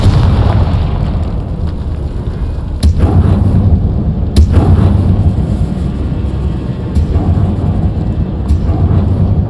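Confringo fire-blast spells go off in Hogwarts Legacy inside a decayed catacomb, loud booming blasts with sharp bursts at intervals over a dense rumbling roar.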